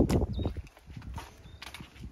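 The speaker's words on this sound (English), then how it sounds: "The horses are here." Saddled horses walking outdoors at Mt. Kenya Holiday Homes near Naro Moru, their hooves clip-clopping in a steady, moderately close rhythm over a low background murmur.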